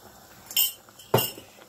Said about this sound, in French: Et je vais bien mélanger.